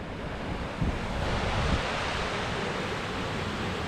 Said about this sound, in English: it's a proper churning area down there where the water drops at the waterfall.